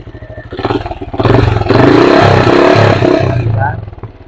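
Benelli Imperial 400 motorcycle with a stock exhaust pipe revving from idle, the engine note swelling loudly for a couple of seconds then settling, close by, with a voice talking over the start.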